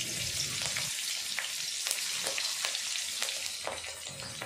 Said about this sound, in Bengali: ওই তেলে দিয়ে দেব তেজপাতা, কাঁচা লঙ্কা,